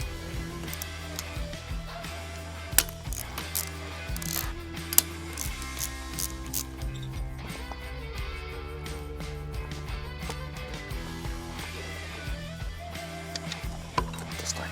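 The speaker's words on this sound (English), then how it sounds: "I'm gonna jump over and loosen and remove the bolts on the right side of the bike" Ratchet wrench loosening manifold bolts on a Milwaukee-engined motorcycle, a steady run of close, quiet mechanical clicking and ratcheting with small sharp ticks, no talking.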